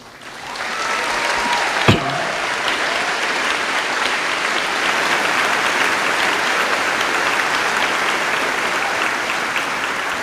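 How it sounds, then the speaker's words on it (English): Sustained applause from a graduation audience honoring magna cum laude students, a dense steady wash of clapping that swells in after a brief quiet start and holds evenly throughout, with one sharp knock early on. "please help me recognize these honorees with a round of applause"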